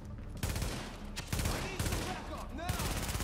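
Dense automatic gunfire from the video game The Division Underground fires in rapid, overlapping bursts that run almost continuously through the short stretch, loud and close.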